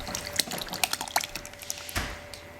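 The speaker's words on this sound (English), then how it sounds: "I have melted all my butter, and I will pour it in the batter." Melted butter poured into vanilla cake batter, a soft wet trickling and dripping that runs for a couple of seconds with small splashy ticks, close and fairly quiet, no talking.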